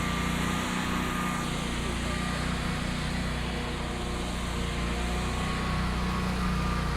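A tractor engine drones steadily and loudly while pulling a lit parade float, a continuous mechanical hum with no breaks and no voices.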